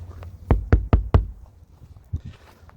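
Knuckles rap on the sound-deadened front door of a 2022 Ford Maverick: four quick close thuds in a row, duller and more damped, then a couple of softer taps after a pause.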